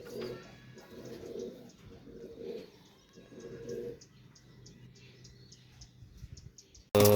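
Several high-flyer pigeons coo in soft, repeated low phrases, with faint higher chirps scattered above them. The calls keep up steadily for several seconds, close by and fairly quiet, before a short loud burst at the end.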